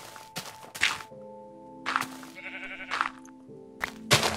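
Sheep in a block-building video game bleat in short bursts between thuds as they are struck, over a faint background tone, with no talking.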